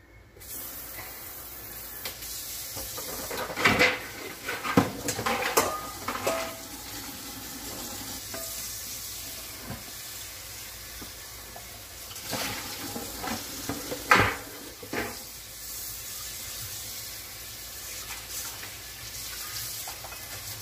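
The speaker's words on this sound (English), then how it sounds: "we're going to move into the sauteing of the meat. Of the onions, rather." Onions sauteing in a pan for a Puerto Rican cubed steak with potatoes, a continuous soft sizzle and hiss with occasional louder sputters and clatters of the pan, without speech.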